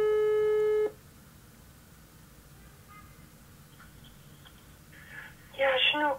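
A telephone line tone sounds loudly for about a second, followed by a faint hiss and then brief electronic tones at the end.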